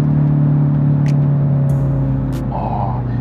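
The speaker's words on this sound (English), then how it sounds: "Hear the downshift." A 2022 Kia Stinger GT-Line with the upgraded 2.5L turbo downshifts via paddle shifters, its engine drone heard from inside the cabin holding steady and then dropping in pitch partway through.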